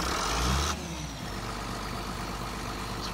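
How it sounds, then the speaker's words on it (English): A tractor in Farming Simulator 17 cranks into life with a loud, heavy burst, then settles into a steady, rumbling idle that holds without letup. "Now, I love this tractor. This was actually done by Ross W., a good buddy of mine. I love the startup."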